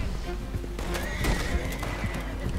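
A horse in Red Dead Redemption 2 gives a loud whinny over clip-clopping hooves and busy game background sound.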